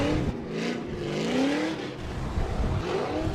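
Drift cars warming their tires before a Top 16 battle at Holley LS Fest West, loud engines revving and wavering in pitch close by, with a hint of tire squeal and no talk.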